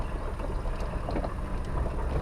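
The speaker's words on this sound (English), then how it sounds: "Finishing our test drive in this 6-liter." A Jeep Wrangler JK with a 6-liter V8 driving across open desert just after sunset gives a steady, loud broadband rumble of engine and road noise throughout, with no talking.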